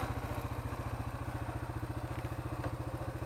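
A Kawasaki Bayou 250 quad's engine idles close by, giving an even, rapid chugging pulse with a faint mechanical clatter and no talk.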